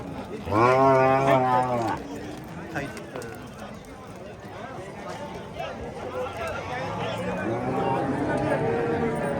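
Cattle at the Oqdaryo Yangiqurgon livestock market let out one loud, drawn-out moo near the start, followed by a steady hubbub of nearby voices and market bustle.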